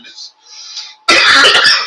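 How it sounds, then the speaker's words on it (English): A person clears their throat, then lets out a loud, harsh cough up close. "I apologize for all of the coughing and things like that"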